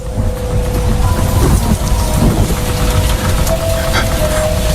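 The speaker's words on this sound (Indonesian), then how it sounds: "Rintik hujan mulai turun membasahi jalan di atas jembatan layang itu." Steady rain pours down with a dense hiss, accompanied by low rumbling and a faint tonal hum throughout.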